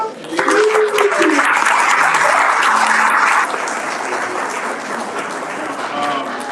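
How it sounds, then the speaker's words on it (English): An audience applauds the kids after an orchestra recital, with dense and steady clapping that is loud at first and eases slightly after a few seconds, while voices talk over it. "Round of applause for the kids."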